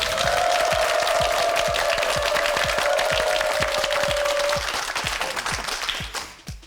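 Studio audience applause on a Korean TV word quiz show, loud sustained clapping with a rapid regular beat of claps, a held electronic tone sounding over the first part, the applause fading out at the end.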